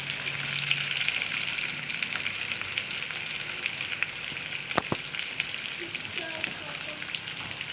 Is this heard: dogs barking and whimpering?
no